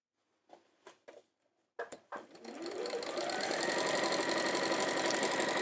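An Elna 550 sewing machine stitching fabric: a few handling clicks come first, then the motor starts and runs with a fast, steady, rattling hum that lasts to the end.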